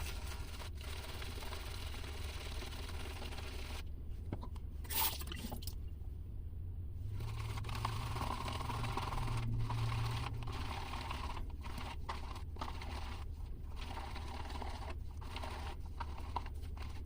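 Shaving soap in a green Prasso bowl loaded and worked into lather, producing soft wet squishing and swirling with scattered clicks and taps, close and quiet under a constant low background rumble.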